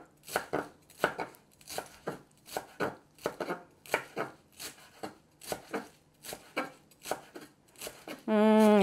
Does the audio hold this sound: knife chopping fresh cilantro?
yes